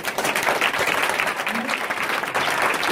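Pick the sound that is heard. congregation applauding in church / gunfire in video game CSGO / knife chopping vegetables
congregation applauding in church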